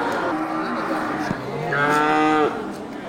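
A mother cow with her female calf gives a few short grunts, then one long, loud moo rising and holding before cutting off, close by with quiet farmyard background.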